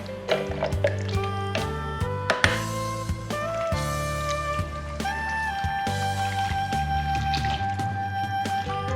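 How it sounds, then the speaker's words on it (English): Stock-cube water poured from a jug into a Cumbrian tattie pot, a gurgling, splashing stream with wet drips that shifts in pitch as it fills. "I add 1 pint of water to a jug and dissolve the stock cubes in the water, and then add it to my tattie pot."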